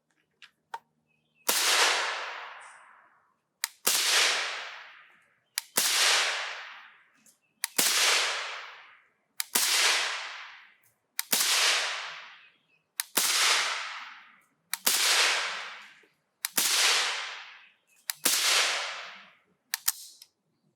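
Suppressed AKM rifle with a Dead Air PBS-1 suppressor fired slowly, ten sharp cracks spaced about two seconds apart, each trailing off in a short echoing tail outdoors.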